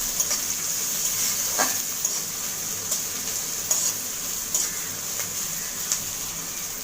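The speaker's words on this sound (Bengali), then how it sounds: "পেঁয়াজটা ভাজতে হবে" Chopped onions sizzle steadily in a hot pan, a constant hissing fry with occasional soft stirring clicks and scrapes, close and alone with no voices.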